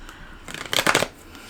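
Tarot cards are shuffled close up in one quick riffling burst that rises and fades within about a second.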